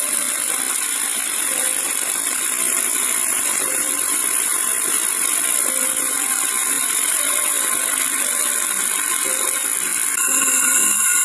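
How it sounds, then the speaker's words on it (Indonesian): A small electric motor runs in a ticker timer physics experiment powered from a 6-volt supply, giving a continuous steady buzzing hum with faint rattling texture throughout, a slight change near the end. "kita nyalakan motornya"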